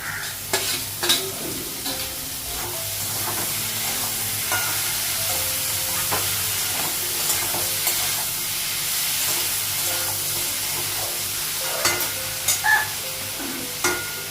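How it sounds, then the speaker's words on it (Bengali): Cumin spice fries in a pan with a steady close sizzle and hiss, broken by intermittent stirring scrapes and small taps, with no talking. "একটু ভেজে নেব জিরা মশলা দিয়ে দিচ্ছি"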